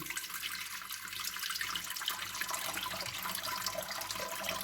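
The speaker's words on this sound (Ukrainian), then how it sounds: "У каструлю наливаємо 800 мл води." Steady stream of water pouring into a saucepan in a home kitchen, a continuous hissing splash at moderate volume lasting a few seconds, with no talk over it.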